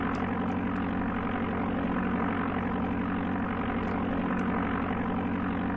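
Steady propeller engine drone of a Cessna in the Amiga game Flight Simulator II, a continuous low hum with a buzzing tone that holds level and close throughout, with no talk over it.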